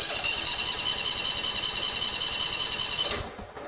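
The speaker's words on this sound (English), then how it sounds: "crank the motor over" A lawn mower engine is cranked over with the fuel line pulled off the carburetor, giving a loud, steady high-pitched whine and squeal for about three seconds before it cuts off abruptly.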